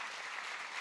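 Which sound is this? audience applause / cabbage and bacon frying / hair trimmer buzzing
audience applause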